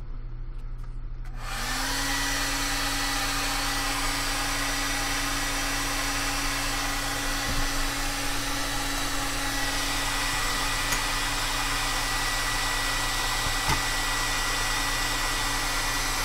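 Hair dryer blowing on handmade art supplies in an art journal, switching on after a second of quiet and then running as a loud, steady, close whoosh with a constant hum.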